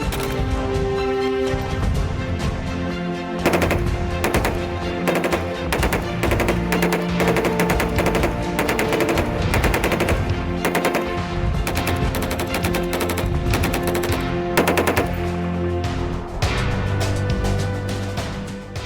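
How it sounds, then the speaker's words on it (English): Continuous rapid gunfire from ITBP personnel at a shooting range, loud, dense bursts of shots rattling on without pause for the whole stretch. "each one have mastered rapid fire. In fact, continuous rapid fire."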